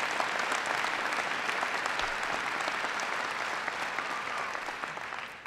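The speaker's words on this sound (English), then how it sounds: "Give Karen a big round of applause." Steady, dense applause from a large town hall audience fills the whole stretch, loud and continuous with no talking over it, tapering only slightly toward the end.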